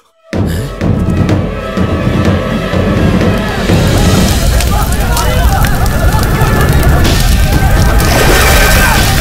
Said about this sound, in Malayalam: തീ പിടിച്ചു